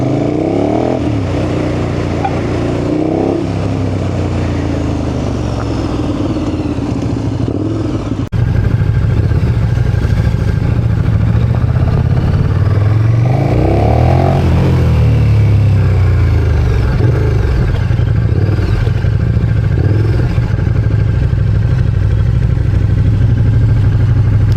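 A KTM 1290 Super Duke R Gen 2 motorcycle engine revs hard on a dyno during a remap, loud and close. It surges and falls through repeated throttle sweeps, then holds a sustained high-rpm roar.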